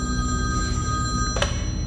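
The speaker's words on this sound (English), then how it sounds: "Right after a telephone starts ringing." A telephone rings in a Five Nights at Freddy's fan film, a steady electronic bell tone running clearly through the whole stretch over a low ambient rumble, with a brief sharp burst of noise near the end and no voices.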